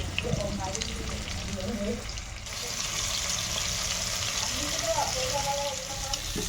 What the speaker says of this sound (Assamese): মাছখিনি ভাজি ল'ম ৰঙা হোৱালৈকে